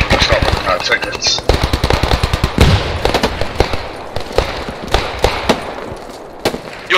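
Rapid bursts of rifle and machine-gun fire crackle through a World War II battle in the shooter game Post Scriptum, sharp repeated shots alternating with denser volleys and scattered distant reports.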